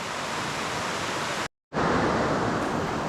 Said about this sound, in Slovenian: Tukaj naj bi bili 3 slapovi. Zdaj enega vidimo tukaj direkt.